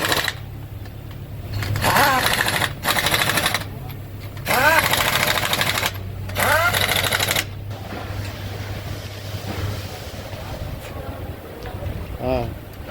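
An impact wrench tightens the wheel fasteners on a Toyota Camry during a brake pad and disc change in a garage, firing four loud, rattling bursts of a second or so each, with someone talking in the background.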